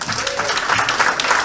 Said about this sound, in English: Can we give another clap, please?